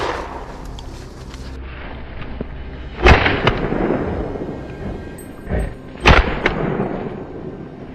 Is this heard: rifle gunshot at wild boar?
yes